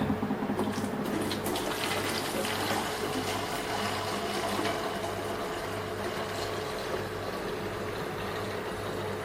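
Liquid being poured into a jug to make a yeast starter for cultured Coopers yeast, a continuous splashing, gurgling stream of water that runs close and steady the whole time.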